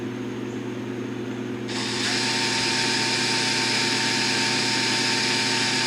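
A steady mechanical hum, then a power drill starts up partway through and runs continuously at a high, even whine until the end, drilling into metal.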